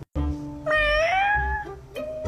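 A cartoon cat gives a long, clear meow with a rising and falling pitch, loud and close, followed by a short second mew, with no talking.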